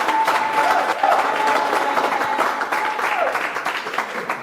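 Wedding congregation at a nuptial blessing service applauding and cheering, a steady wash of clapping and voices throughout with a held tone riding faintly underneath.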